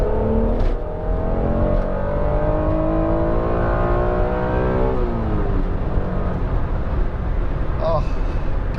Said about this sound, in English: that engine, I hope you can hear it I really hope it comes through on the video